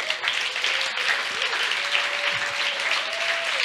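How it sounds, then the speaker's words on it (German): A congregation at a German Christian worship service claps together in sustained, dense applause, loud and close, with a few faint voices underneath. "Gebt dem Herrn ein Klatschopfer."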